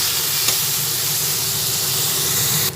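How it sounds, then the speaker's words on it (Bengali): Onion, garlic and ginger fry together in hot oil for an egg curry, making a loud, steady, close sizzle that fills the whole moment without pause. "পেঁয়াজ রসুন আর আদাটা একসঙ্গে দিয়ে দিলাম এরপরে তেলের মধ্যে দিয়ে এগুলো একসঙ্গে ভেজে নিচ্ছি"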